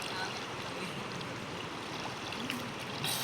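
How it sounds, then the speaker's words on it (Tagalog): Steady, broadband rush of a strong, fast-flowing river current, continuous and close, with a brief splash near the end. "Malakas ang current guys."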